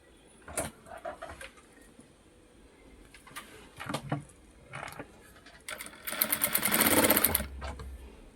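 A sewing machine stitching blouse pieces together gives a few short mechanical clicks and brief taps, then a loud close run of rapid stitching that lasts about a second and a half.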